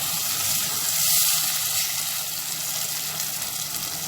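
Hot oil sizzles loudly in a pan as fava beans are cooked, a steady, close frying hiss and crackle with no voices.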